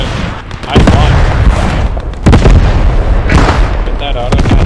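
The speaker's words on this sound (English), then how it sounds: "That auto cannon firing." Auto cannon fire booms out in a World War II tank strategy game with a Greyhound armoured car and Panzer II tanks, loud repeated blasts with rumbling tails.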